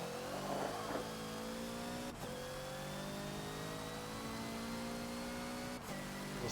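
The Hoonigan Ford Focus race car in Forza laps the Bugatti Circuit, its engine holding a steady high whine with two sharp shift breaks, a constant game engine tone with no talking.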